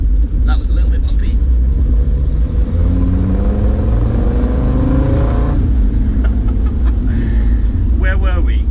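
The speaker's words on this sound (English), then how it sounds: "there's something so freeing about driving through fields in the summer like this" A Land Rover Defender drives across a bumpy summer field, its engine rumbling steadily and close throughout, with a rising whir partway through as it pulls on; a voice talks over it.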